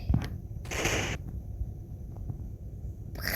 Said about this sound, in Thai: ใครมันยิงปืนวะน่ะ